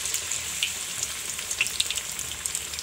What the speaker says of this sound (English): we are dipping it in the batter and deep fry these pakoras